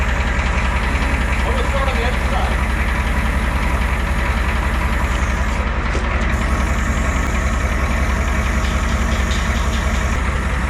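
A 7.3 IDI diesel engine in a screw cab truck idles steadily after starting, a loud, close, continuous clatter and rumble with no talk over it.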